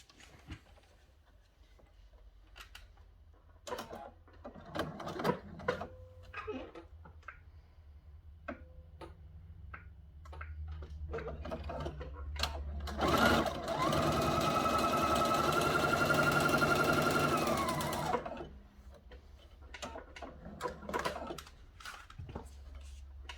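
Sewing machine stitching a cathedral window quilt panel close to the edge, one sustained run of rapid stitching after scattered clicks and handling taps, close by.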